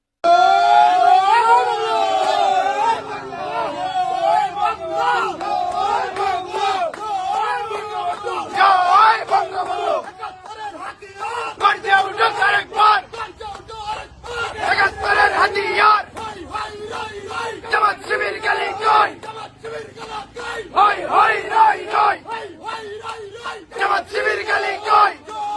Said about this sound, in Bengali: তার কর্মী সমর্থকেরা সেখানে তো সব ছাত্রলীগের ছেলেপেলে স্লোগান